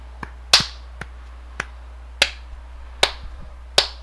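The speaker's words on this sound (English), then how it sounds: "You get 1 clap." Sharp, dry hand claps or snaps, sounding as several separate crisp hits spaced about half a second apart in a quiet room.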